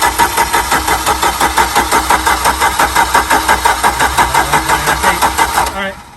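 A tired four-cylinder car engine cranks over steadily on the starter with the fuel disconnected for a compression test, giving a loud, even rhythmic chugging that runs for about six seconds and then stops.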